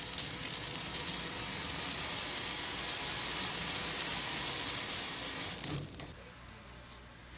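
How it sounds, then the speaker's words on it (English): Water pours steadily from a sink tap as hands and arms are rinsed during a surgical scrub, a loud continuous splashing hiss that stops abruptly near the end, followed by a faint drip or knock. "rinses hands and arms thoroughly while keeping the hands and fingers pointed upward so that water drips off of the elbows"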